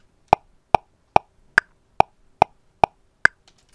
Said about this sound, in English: just the metronome alone sounds like this